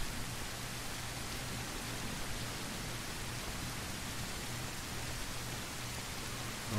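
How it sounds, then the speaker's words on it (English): Steady rain falls in the survival video game SurrounDEAD, a continuous close hiss of drops running evenly throughout with a low constant hum beneath, no voices. "Well, it's just raining."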